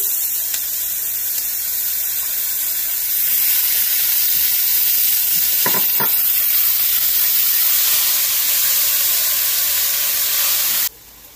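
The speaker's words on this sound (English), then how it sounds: "Cover and fry until the oil starts separating." Tomato puree and spices fry in oil for chicken tikka masala, giving a steady, loud sizzle that hisses continuously with a couple of brief crackles midway, then cuts off near the end.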